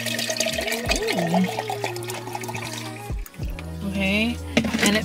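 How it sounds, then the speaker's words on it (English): Bottled water pours into a cup indoors, a close liquid stream with gurgling, rising tones as the cup fills, running steadily beneath a woman's speech throughout. "I will take a bottle of water, pour it in here"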